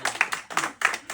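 A small group claps hands together on cue, a quick burst of about seven or eight sharp, close claps in a loose, uneven rhythm.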